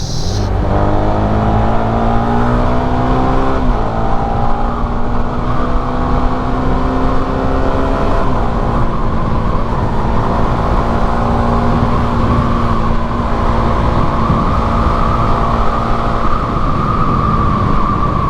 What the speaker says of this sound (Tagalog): Acceleration. Unang hatak. Unang hatak ni Winner X.